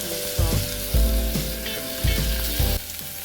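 Chopped onion sautés with green seasoning in a pan as the base for a pork rib risotto broth, a steady close sizzle with several louder bursts of frying as the mix is stirred.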